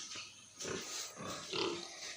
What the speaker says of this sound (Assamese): ইয়াতে আছে দুটা খাচী গাহৰি